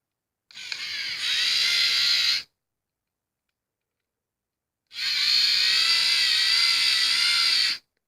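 The motors of a Lego Mindstorms EV3 robot whine in two separate bursts, about two and three seconds long, as the robot drives forward and then backward, with silence between them.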